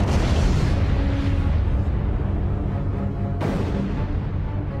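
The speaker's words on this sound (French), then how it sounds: "La supernova explose en émettant des quantités d'énergie" Supernova explosion effect: a loud, dense roaring blast that fades gradually, then a second sudden burst near the end rolls out into a sustained rumble, with no voices.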